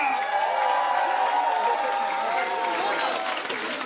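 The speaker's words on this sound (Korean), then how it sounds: "박수 한번 부탁드리겠습니다." Audience at a Korean Pilbong nongak folk music performance breaks into dense applause mixed with cheering and shouts, a full crowd sound that holds steady throughout.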